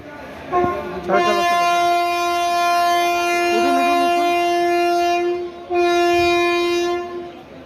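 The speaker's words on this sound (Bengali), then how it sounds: "আমাদের ট্রেন ছেড়ে দিল" A train horn on the Shalimar to Digha line sounds at a station as the train departs: a long, loud, steady tonal blast, then a short pause and a second shorter blast, over a low rumble of rail noise.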